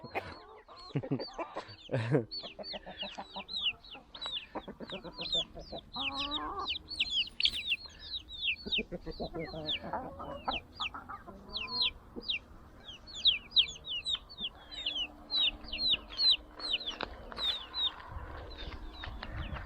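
Village chickens cluck and squawk close by in a busy, overlapping chorus, with bright chirps and rustling movement throughout.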